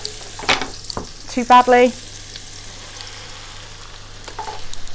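Frittata vegetable mixture frying in a pan with added oil, a steady soft sizzle running throughout beneath brief speech, with a louder burst of clatter partway through.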